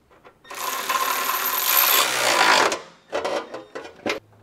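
A ratchet with an 11/16 socket snugs down trailer hitch bolts under a 2023 Toyota Corolla, a rapid clicking buzz for about two seconds followed by a few short separate clicks.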